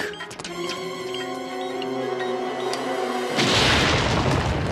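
Tonal cartoon music plays for about three seconds before an oversized stick of dynamite goes off in a loud, close, hissing blast that rumbles to the end.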